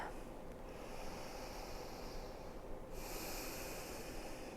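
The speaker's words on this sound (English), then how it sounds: "Finding some expansive inhales and long exhales through the nose." During a seated chair yoga session, a person breathes slowly through the nose, a steady airy rush of long inhales and exhales heard close over a constant hiss, with no talking.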